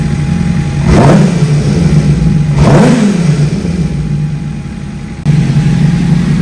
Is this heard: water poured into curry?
no